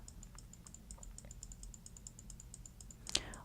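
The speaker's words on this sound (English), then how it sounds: "You can hear my mouse clicking." Quiet, steady computer mouse clicks tick along at an even pace in a hushed room, closing with one sharper, louder click.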